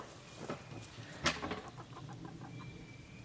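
Hens cluck softly nearby, with one sharper squawk standing out among the scattered calls against a quiet outdoor background.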